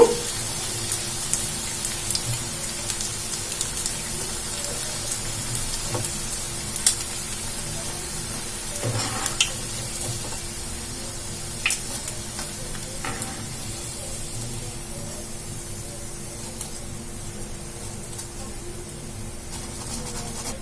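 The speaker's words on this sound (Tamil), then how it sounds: "இதே மாதிரி மீதி இருக்க எல்லாத்தையும் ஆயில போட்டு ஃப்ரை பண்ணி எடுத்துக்கலாம்" Potato bondas, tea-stall style, deep-frying in hot oil, a steady low sizzle and crackle running throughout with scattered small pops and a few louder clinks, no voices.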